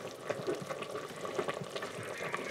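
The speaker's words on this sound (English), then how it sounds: "Boiling up here." Steady bubbling and crackling of liquid boiling in an Instant Pot, a dense, close simmering texture with small pops throughout.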